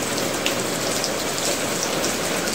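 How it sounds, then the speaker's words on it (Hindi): Heavy rain pours down in Lahore, Pakistan, a steady, even hiss of drops striking surfaces close by, continuous throughout with no voices. "अब पूरी बारिश तेज चल रही है"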